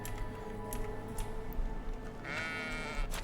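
Sheep bleating in the medieval farming game Medieval Dynasty, heard as a wavering animal bleat near the end over a steady bed of ambient game noise, with no talk.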